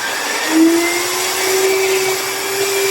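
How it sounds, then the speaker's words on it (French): A water-fed core drill bores through a wall in a swimming pool's technical room, giving a steady whining motor hum with a rising tone and a broad rushing hiss, continuous and close. "on va vous montrer comment la machine est en train de percer"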